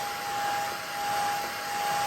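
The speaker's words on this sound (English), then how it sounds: "So we're just going to use our hair dryer on low." A hair dryer on its low setting whirs steadily at an even pitch throughout, close by and fairly soft, drying a baby chick; no talking.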